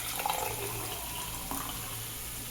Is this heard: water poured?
yes